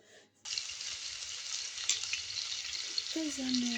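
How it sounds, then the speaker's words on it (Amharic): Chopped onions hit a hot frying pan and sizzle loudly and steadily, with some stirring, after a brief quiet start; a faint voice and a soft tonal sound appear near the end. "ከዛም በመጥበሻ ሽንኩርቴን ጨመርኩኝ፣ አማሰልኩኝ።"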